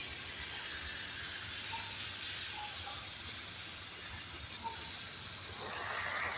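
Garden hose spraying water over trees at a garden center in hot summer weather, a continuous soft hissing rush that holds steady throughout.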